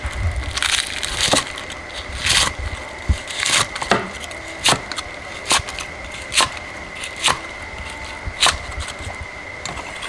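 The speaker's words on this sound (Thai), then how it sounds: "หั่นไก่เลย" Knife chopping through crispy fried chicken on a cutting board for Thai fried chicken rice, a series of sharp, evenly spaced thuds, close and loud, with crunching between strikes and no talk.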